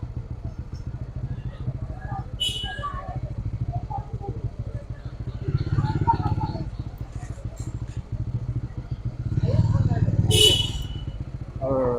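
A motorcycle rumbles along as the rider films at a cattle market, its low engine drone steady underneath with two brief surges. Voices are heard over the engine.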